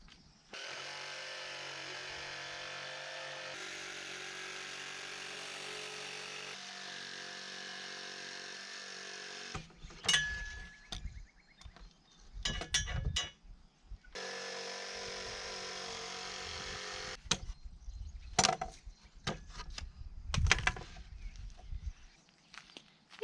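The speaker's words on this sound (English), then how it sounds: "jigsaw time." A jigsaw cuts wood inside an off-grid barn conversion in central Portugal, buzzing steadily for about ten seconds, then stopping and restarting in shorter bursts broken by clunks and handling noises.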